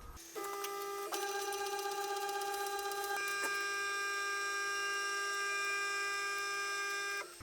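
CNC milling machine driving its axes to the homing switches during referencing before machining PEEK parts: steady whining servo tones that shift pitch in distinct steps as each axis moves, continuous and close for several seconds with no talk.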